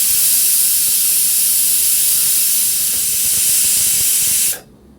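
A pressure cooker with pork inside lets out one loud, steady steam whistle at close range, holding for several seconds before cutting off abruptly.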